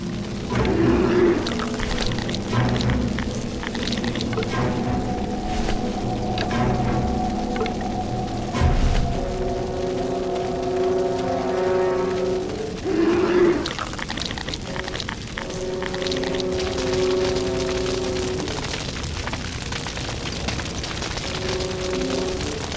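A thick river of tar flows steadily in the Grim Fandango video game, a continuous wash of liquid churning beneath droning, whale-like tonal game sounds, with a couple of deeper surges partway through.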